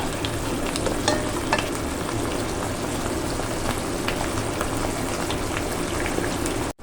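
Tomatoes simmer in a pan for a pork chop in tomato sauce, giving a continuous close sizzle and bubbling with scattered scrapes and clicks of stirring throughout.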